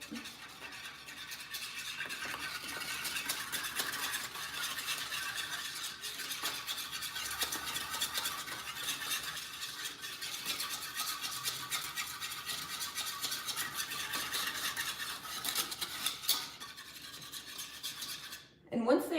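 Puppy mush food being mixed by hand, a steady wet stirring and scraping that runs continuously at close range with no talk, ending in a brief louder knock.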